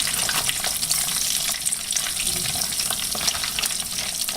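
Cider-battered chicken pieces deep frying in a pot of hot oil, a dense, steady crackling sizzle with constant bubbling that holds evenly loud from start to finish with no talking.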